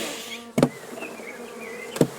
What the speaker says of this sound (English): I'm just going to shake the bees off